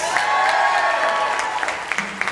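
A concert audience claps and cheers briefly, a burst of applause from a large crowd with voices mixed in.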